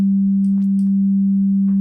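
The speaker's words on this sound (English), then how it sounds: "Let's go with a sine wave." A Full Bucket ModulAir synthesizer holds a steady, loud sine-wave tone that never changes pitch, broken only by a few faint, brief glitchy chirps.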